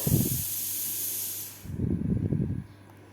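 Milk boiling in a pot, a hissing steam sound that fades out, with two short bursts of low, rumbling bubbling close by.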